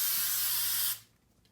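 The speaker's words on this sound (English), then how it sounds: "I'm just going to spray a light spray" Spray can releasing a light coat in one steady, close hiss lasting about a second, then cutting off into near silence.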